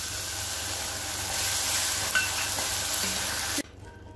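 Soya momos gravy with fresh cream bubbles and sizzles in a pan in a close, steady hiss that cuts off abruptly near the end, leaving quiet.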